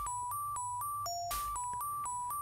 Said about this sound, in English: I think I just heard the phone ringing